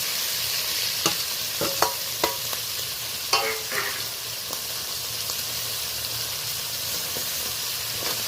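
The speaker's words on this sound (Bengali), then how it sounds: "বেশ ভালো করে একটু নেড়ে চেড়ে নিলাম।" A crab dish fries in oil with ghee, a loud continuous sizzle and hiss punctuated by sharp scrapes and clacks of a spatula stirring the pan, with no voices.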